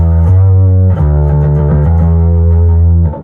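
Bass guitar run through a Horizon distortion pedal switched on, sustained low notes with a gritty, harmonically rich edge, loud and close, changing pitch a few times before cutting off.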